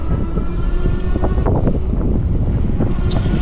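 Strong wind roars across the microphone during an uphill ride on a RAEV GTX Cafe Racer electric bike, a loud continuous rushing buffet with gusty surges throughout.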